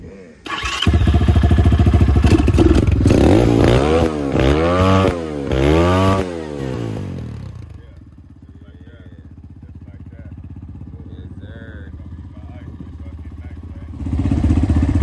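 Can-Am Ryker three-wheel motorcycle engine revving hard several times in rising and falling sweeps, loud and close, then settling to a rumbling idle before another blip.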